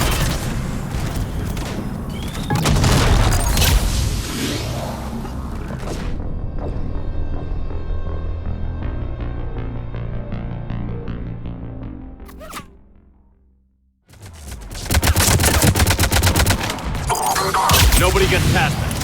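Gunfire and explosions from the Mass Effect 3 Legendary Edition video game, with booming bursts and rattling shots that fade into a quieter stretch before a loud burst of combat returns. Talk runs over the battle noise.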